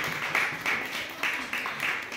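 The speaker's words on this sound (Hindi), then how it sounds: "भरपूर ताली" Congregation at a church sermon bursts into hearty clapping in several quick rhythmic waves, a close, dense patter of hands with no clear speech over it.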